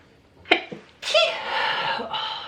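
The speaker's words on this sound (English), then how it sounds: "Oh, I'm going to sneeze." One sharp sneeze from a woman with hay fever, close and loud with a short intake before it, followed by brief voiced sounds afterward.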